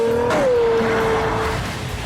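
A Pagani Zonda supercar with a 650-horsepower engine accelerates hard, its loud rising engine howl sweeping upward then holding steady close by, with no voices.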